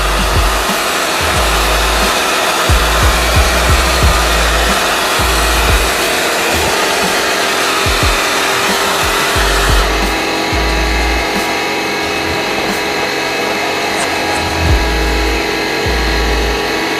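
A hair dryer blowing loud and steady to dry a paint coat on a DIY RC army personnel transporter model, a continuous close whoosh that shifts slightly partway through as it is moved.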